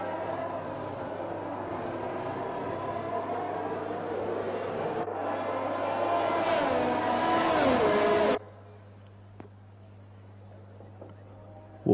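Race cars leave the grid at a racing-game round set at Belgium, their engines whining in a dense, rising drone that swells for several seconds and then abruptly drops to a faint hum.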